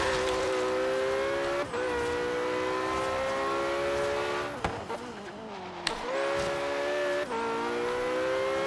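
Engine note of a car driven in Forza Horizon 3 on Xbox One, a steady loud drone with rising tones that dip and climb again at gear shifts, a brief rough patch midway, no talk.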